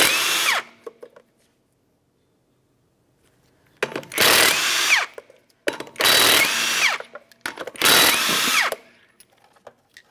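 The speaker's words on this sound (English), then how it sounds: "Remove all 4 of your 19mm lug nuts" Four bursts from a power impact tool removing 19mm lug nuts from a 1994-1997 Honda Accord wheel, each a loud, close whirring rattle lasting about a second, separated by short quiet gaps.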